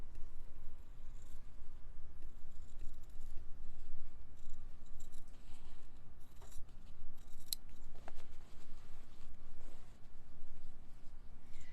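Kaffe scissors snip steadily through batik fabric at close range, a continuous run of crisp blade bites and fabric rustle lasting several seconds with no talk.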